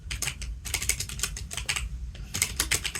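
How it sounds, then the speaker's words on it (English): Rapid keystrokes on a computer keyboard during an AWS cloud security command-line demonstration, clicking in quick uneven bursts with brief pauses, close and clear with no talking. "So that's why I'm typing."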